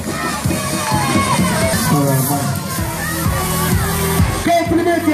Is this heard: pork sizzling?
no